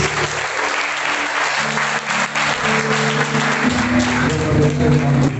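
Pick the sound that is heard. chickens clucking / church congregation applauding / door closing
church congregation applauding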